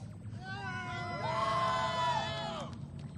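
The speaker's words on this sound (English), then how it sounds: "this many Cole Secoy fans to be yelling and screaming like that" A rowdy crowd of fans yells and screams around the podium for a first-time winner at a GNCC off-road UTV race, a single rising cheer that swells and fades over about three seconds.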